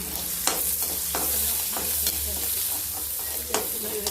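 Mustard seeds, cumin and red and green chillies tempering in hot oil make a constant close sizzle, with occasional spatula scrapes and stirs cutting through.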